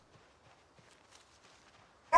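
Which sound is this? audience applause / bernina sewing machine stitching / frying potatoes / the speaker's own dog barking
the speaker's own dog barking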